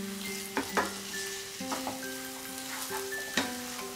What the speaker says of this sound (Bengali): চিকেনের সাথে ভালো করে আমি মশলাটাকে মিশিয়ে নিচ্ছি।